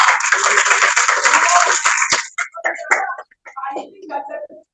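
Audience applause at a Christmas worship service in Semarang: a dense, loud burst of many hands clapping for about two seconds, then it breaks off as people start talking.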